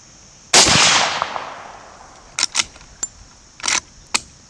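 A 110-year-old Winchester rifle fired from a bag at a 50-yard bench range in West Virginia: one loud, close sharp report with a decaying tail, followed by several short metallic clicks and clacks of the action being worked.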